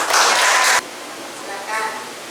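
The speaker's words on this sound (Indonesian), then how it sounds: "tepuk tangan dulu semua ya" A classroom of students bursts into brief, dense applause that stops abruptly after under a second, followed by quieter room noise.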